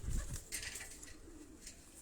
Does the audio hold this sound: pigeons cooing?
yes